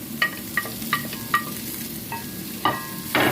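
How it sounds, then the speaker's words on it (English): Chilli, ginger and garlic being stirred in a hot pan: a soft sizzle runs underneath while a utensil scrapes and knocks against the pan about eight times in quick, irregular strokes, close and fairly loud, with no talking. "Give that a good stir around."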